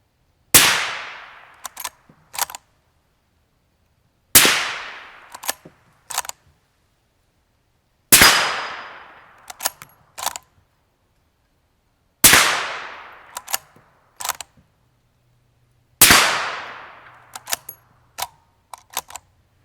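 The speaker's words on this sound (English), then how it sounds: "We'll fire a couple into the dirt." Five loud, sharp rifle shots through a Yankee Hill Machine R9 suppressor, fired into dirt, evenly spaced about four seconds apart, each followed by quick mechanical clacks of the action cycling.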